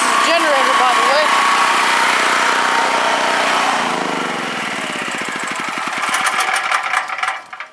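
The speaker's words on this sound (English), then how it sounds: "This is a generator, by the way." A portable generator's small engine runs close by with a steady buzzing drone that slows into distinct chugging pulses as it winds down, and a voice is heard briefly at the start.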